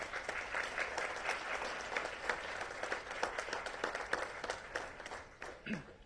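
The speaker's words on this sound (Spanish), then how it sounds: "Un aplauso, por favor." An audience at a panel on workplace harassment applauds a panelist, a steady wash of many hands clapping that holds level and thins slightly toward the end.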